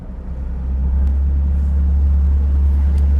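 A Yamaha 250 outboard on a new 2023 Skeeter FXR boat holds a high idle around 1,500 RPM, trimmed all the way down, a loud, steady low drone that rises slightly at the start and then stays constant.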